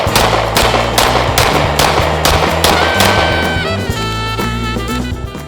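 Shots from a Dusk 19R pistol loaded with Bag Tech ammunition at a range, a rapid string of sharp, loud reports fired in quick succession, followed by ringing metallic tones as the string ends.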